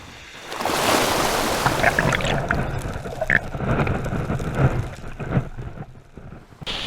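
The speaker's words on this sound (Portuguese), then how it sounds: "O mar sempre será a força mais poderosa por aqui, demonstrando todo o seu poder através das ondas." Surf breaking against a rocky Brazilian shoreline, a broad continuous roar of churning water with repeated louder swells and splashes, fairly close, no voices.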